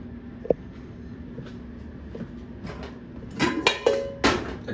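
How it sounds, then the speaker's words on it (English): A spoon scrapes and clinks against a ceramic pot while milk is stirred as it warms, with sparse taps at first and then a cluster of louder metallic knocks and scrapes near the end, with no talk. "I'm gonna warm this milk up actually. So let's stir out the pot."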